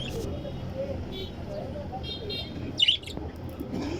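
Caged birds chirp at a Friday street bird market, with brief scattered tweets and one brighter burst. Someone talks over them and traffic rumbles in the background.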